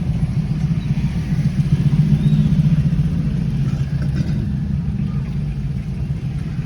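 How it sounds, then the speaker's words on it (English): Rush-hour street traffic in the Philippines, with a steady, continuous drone of car and motorcycle engines idling and revving nearby, and no clear voices. "this is rush hour traffic"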